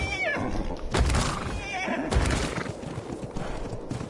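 Horse neighing in the video game Ark Genesis, a couple of loud whinnies over hoof clops and game ambience, with a voice talking briefly.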